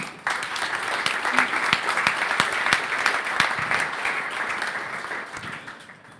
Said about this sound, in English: Please give a warm applause for Julian Leitloff.